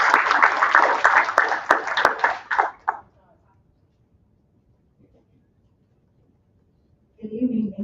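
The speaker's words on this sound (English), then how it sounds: "Nice round of applause for Melissa with Joyful Noise." Applause from an audience at a pitch competition in Salina, Kansas, a dense burst of clapping lasting about three seconds that fades to near silence before a voice starts speaking at the end.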